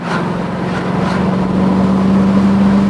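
A Triumph Stag V8 engine's deep rumble builds steadily as the revs climb, a throaty drone heard up close without any talking.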